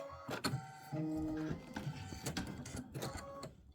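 An embroidery machine stitching quilting lines on a Nativity bench pillow, quick mechanical whirring and rattling with short pauses and tonal motor whines, close and steady.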